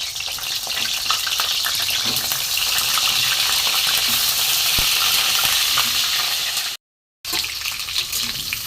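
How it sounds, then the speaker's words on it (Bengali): Pieces of pointed gourd frying in hot mustard oil, a loud dense crackling sizzle with a clink or two, cut off by a brief silence before resuming, with no talking. "পটলগুলো প্রথম আমি ভেজে নেব।"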